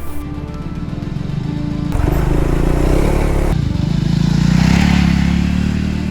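Triumph Scrambler 400X motorcycle riding over broken roads and single track trails, its engine droning steadily loud throughout with rough broadband rumble and road noise swelling as it moves along.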